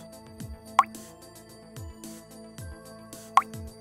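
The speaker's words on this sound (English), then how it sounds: "a water sound every time you touch the screen on by default" A Samsung Galaxy S5 plays its default water-droplet touch sound, short bubbly plops repeating at irregular intervals, with faint clicks and tones in between.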